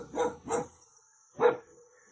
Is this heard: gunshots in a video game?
no